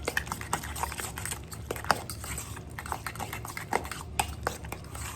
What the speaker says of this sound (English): I'm just going to crack my egg into my ricotta. Just mix this up